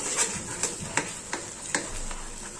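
A spoon stirring semolina halwa with ghee in a kadhai, quiet rhythmic scraping taps about every half second, close and faint with no talking.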